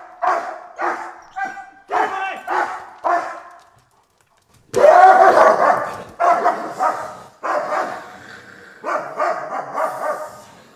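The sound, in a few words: dog barking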